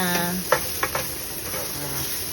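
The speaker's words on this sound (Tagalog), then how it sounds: "Buin natin maigi para lumambot yung ating stem ng bok choy. Halo lang." Bok choy stems are stirred in a sizzling pan. A steady fry hiss is broken by a few soft scraping stir strokes, close and moderately loud.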